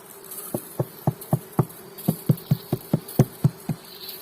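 Inside a beehive of Carniolan bees in the rain, a steady series of sharp, evenly spaced taps repeats about every quarter second, with a faint buzzing hum underneath.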